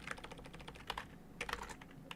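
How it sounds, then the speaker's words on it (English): Fingers tap out a comment on a computer keyboard in quick, uneven clusters of close, crisp clicks with a brief pause midway. "I'm typing a comment"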